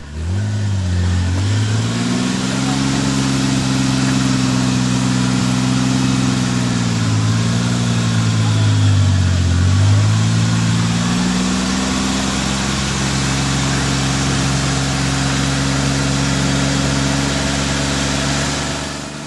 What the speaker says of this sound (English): Up next we have Bruce and Lyndon Swatton driving in Bullfrog with a 3-litre motor under the hood.